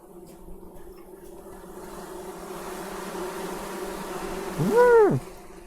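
Bees buzzing around a beehive in the video game Among Trees, a steady droning hum that swells louder near the end as one passes close by.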